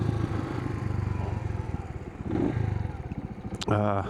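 A Suzuki TU250x motorcycle ridden in second gear, a steady low single-cylinder engine thrum close by with wind noise, rising briefly near the end, under a voice.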